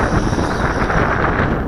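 Strong, gusty wind roars across the microphone during outdoor flight of a Syma X8C Venture quadcopter in 15-knot conditions. The rumble is loud, low and buffeting and covers the whole clip, with no voices.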